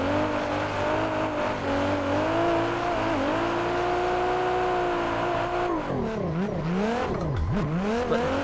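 A loud Mustang race car engine in Assetto Corsa drones steadily at high revs nearby, then rises and falls sharply through gear changes and throttle lifts toward the end.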